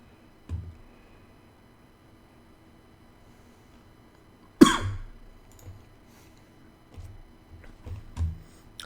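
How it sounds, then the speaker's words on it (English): A single sharp cough stands out close to the mic, followed by a few softer throat sounds and small clicks in an otherwise quiet room. "Sorry about the coughing."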